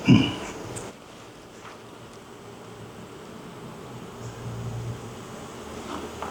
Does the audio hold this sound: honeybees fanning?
yes